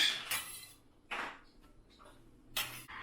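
Imitation crab meat lifted with a knife into a bowl, giving three soft clinks and scrapes of metal against a dish, spaced about a second apart, close and fairly quiet with light rustling between them.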